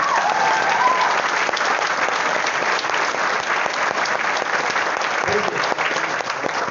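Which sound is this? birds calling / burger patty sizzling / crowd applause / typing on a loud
crowd applause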